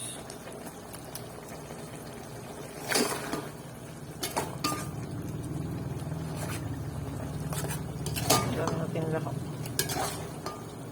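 Creamy pesto pasta sauce being stirred in a pan, soft bubbling and simmering under intermittent sharp clinks and scrapes of a utensil against the pan, several distinct taps scattered across the stretch.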